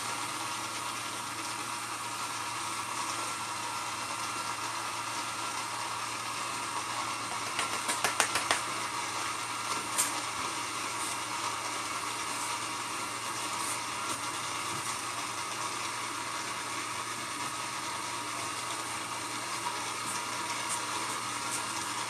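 A TikTok-style slushy machine hums steadily as it runs, chilling a tumbler of Sprite and ice, with a constant motor whir and faint water sloshing throughout and a few brief clicks partway through.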